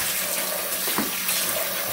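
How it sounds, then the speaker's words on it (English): Water from a kitchen sink tap runs in a steady, full-bodied hiss and splash, close and loud, filling a sink holding collard greens, with no talking. "So I'm just letting the water start running."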